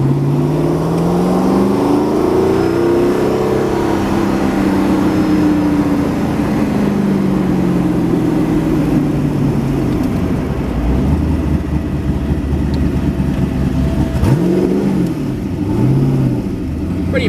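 Twin-turbo engine of a 2020 Factory Five GTM supercar, about 700 horsepower with a Porsche G50 five-speed transmission, drones loudly and steadily, its pitch swelling and falling through revs, with a sharp rise near the end.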